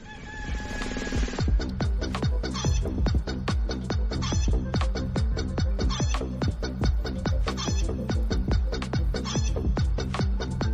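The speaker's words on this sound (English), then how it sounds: "Mad chicken's going." Chicken clucks and a rooster crow are set over a loud, steady rhythmic beat, repeating in quick pulses throughout with no talk.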